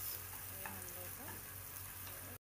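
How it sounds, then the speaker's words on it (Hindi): Mashed boiled potato fries in a pan with salt, giving a steady dense sizzle and crackle throughout, close and fairly loud, with brief stirring scrapes and no talk. "इसको अभी हम अच्छे से फ्राई कर लेंगे"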